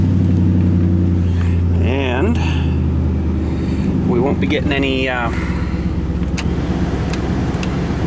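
A 2001 GMC Sierra truck engine idles steadily just after starting, a low continuous rumble running throughout while someone talks over it.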